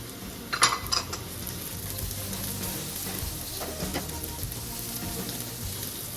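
Garlic and onion hit hot oil in a pan for beef broccoli, a bright clattering burst of stirring at the start settling into a continuous loud sizzle that runs throughout.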